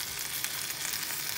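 Large sausages fry in a pan with a steady, close, even sizzle and crackle, no voices.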